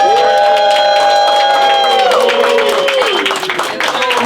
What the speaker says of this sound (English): I need everybody to give a round of applause to PHILMORE Green